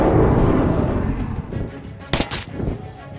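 Gunfire in the video game Metro 2033 Redux: a loud burst of shots at the start, then scattered sharper cracks and bangs trailing off, with no talking.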